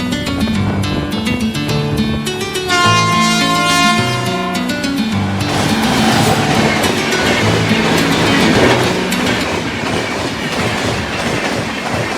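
A train rolls past close by near Akkalkot Road railway station, loud and continuous, with rhythmic clickety-clack of wheels over rail joints and a rumbling wagon roar.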